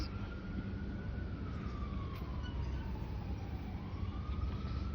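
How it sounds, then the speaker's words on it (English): An ambulance siren wails in slow rising and falling sweeps over heavy, steady traffic rumble, sounding some distance away. "you hear the car? The ambulance?"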